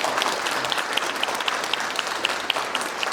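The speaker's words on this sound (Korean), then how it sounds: "박수 한번 보내주십시오." An audience claps at a civil servant's honorary retirement ceremony in Gwangmyeong, a moderate, even patter of many hands with distinct individual claps sounding throughout, no talk over it.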